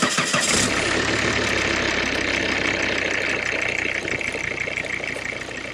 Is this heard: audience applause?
no